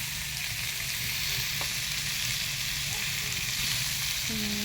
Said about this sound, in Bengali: টমেটোটা বেশি ভাজবে না, মাছটা একটু টকটক টাইপের, সেই জন্য হালকা ভেজে দেবো